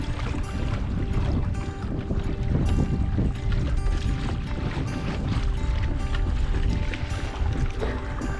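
A kayak is paddled hard and fast across open water, a continuous close rush of splashing and wash with rhythmic paddle strokes and wind noise on the microphone, steady and loud throughout.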